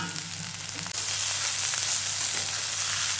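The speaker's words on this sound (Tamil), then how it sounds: "எண்ணெயில் வதக்கிட்டு கொத்தவரங்காய் போடலாங்க." Cluster beans are dropped into hot oil, and a quiet background sizzle jumps to a loud, dense hiss of frying that carries on steadily to the end, with no voices.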